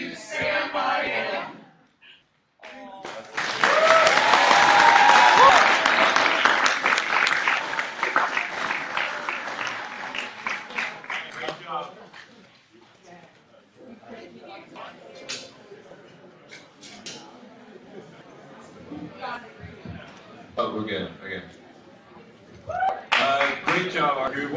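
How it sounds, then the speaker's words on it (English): An audience at a talent show bursts into loud, dense applause that swells for several seconds and then fades to scattered clapping, with a person talking over parts of it and a second smaller round at the end. "One more round of applause for them."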